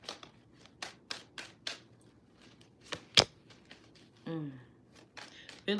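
Tarot cards being shuffled by hand, a series of quick, crisp riffling and tapping bursts at close range, spaced out with short pauses and a brief breath or voice sound between them.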